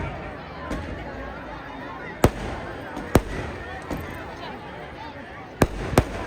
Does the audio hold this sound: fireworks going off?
yes